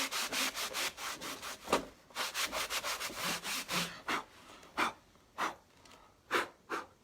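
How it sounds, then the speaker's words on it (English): A microfiber dishcloth rubs across a chalkboard made from an upcycled thrift store painting, giving a series of quick, breathy swishing strokes that come in bursts and then grow more spaced out. "You can wipe it down even further."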